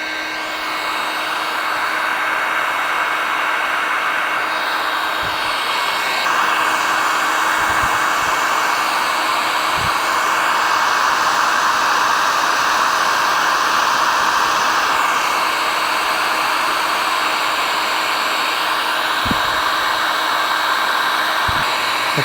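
A heat gun blows steadily to shrink heat shrink tubing over butt connectors while rewiring an old Alumacraft jon boat, a loud continuous airy whoosh with a few faint knocks, with no voice.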